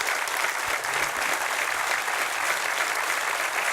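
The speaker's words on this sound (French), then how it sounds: "on peut les applaudir, merci d'être là" A seated audience claps steadily at an association event, a dense, even wash of applause that holds at a constant level throughout, moderately distant, with no talking over it.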